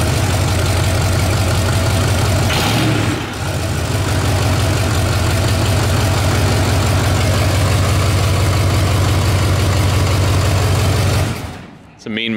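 Ford Powerstroke diesel engine running close up, a loud, steady idling clatter with a deep rumble that holds for about eleven seconds before cutting off near the end, with a person talking over it.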